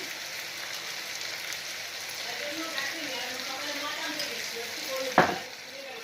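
Chicken pieces fry in a hot pan with a steady, close crackling sizzle throughout, ending in a sharp clatter as a utensil strikes the pan.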